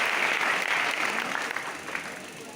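An audience breaks into enthusiastic applause at a business event, a dense, steady clapping that starts strong and tapers slightly over a couple of seconds, with no voices over it.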